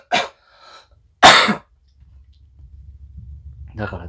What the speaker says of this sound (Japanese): 咳がもう止まんねえ